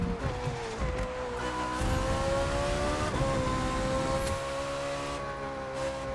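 A fast car races flat out in The Crew 2 racing game, its engine a sustained high whine that shifts pitch through the run. The engine stays loud and unbroken throughout with no speech over it.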